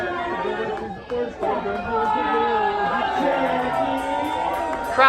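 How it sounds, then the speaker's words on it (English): A live studio audience cheers and whoops with steady crowd chatter as the hosts come on stage for the first episode of a talk show, a dense, continuous roar with a short dip near one second. "Crowd going wild."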